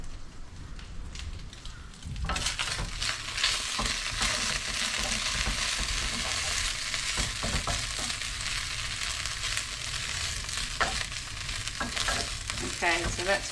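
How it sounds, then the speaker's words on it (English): Bacon crisping in a hot pan gives a loud, dense, continuous sizzle and spatter that starts abruptly after a quieter opening and carries on steadily up close. "that's beautifully crisping up now and smells beautiful"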